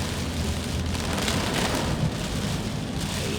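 Heavy rain pours down in Pasay, Manila as a dense, steady hiss and roar of water striking surfaces, unbroken and loud, with no speech.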